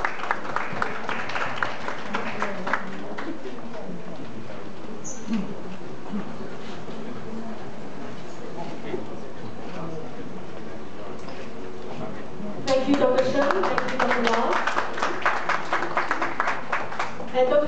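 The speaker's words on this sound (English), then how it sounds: "Ladies and gentlemen, a big round of applause and congratulate the three gentlemen on stage." Audience applause for three gentlemen on stage at a KLIDC appreciation event, a soft steady patter of clapping in a hall that swells louder near the end.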